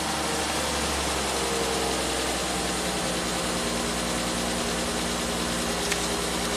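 A 1967 Triumph GT6 engine idles steadily with a low, even rumble and faint mechanical whine, close up and continuous with no talking.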